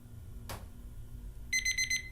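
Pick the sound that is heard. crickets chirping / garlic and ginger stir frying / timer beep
timer beep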